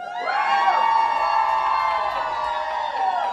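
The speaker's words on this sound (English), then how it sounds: "and the crowd goes wild." A crowd at an official fan club party in Nashville cheering and whooping loudly and continuously, with high excited voices shouting together throughout.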